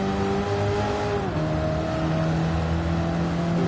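A race car engine screams at high revs in the Gran Turismo 7 video game, a steady loud howl with a brief pitch drop as it shifts, then climbing again.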